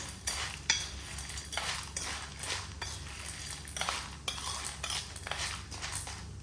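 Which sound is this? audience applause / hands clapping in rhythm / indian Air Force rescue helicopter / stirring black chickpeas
stirring black chickpeas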